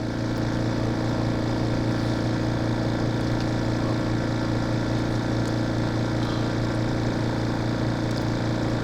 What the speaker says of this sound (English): Hey, even the air compressor agrees.